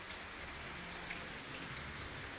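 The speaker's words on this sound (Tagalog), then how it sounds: "Lakas ng ulan guys." Heavy rain falls outside a house as a dense, steady hiss of drops, heard faintly from indoors with no voices and no break in the downpour.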